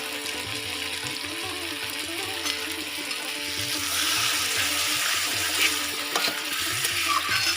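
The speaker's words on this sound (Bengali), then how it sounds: "এবার আমি একটু জল দিয়ে দেবো" Water is poured into soyabean curry masala frying in oil, giving a continuous bubbling sizzle that grows a little louder partway through, with faint stirring clinks.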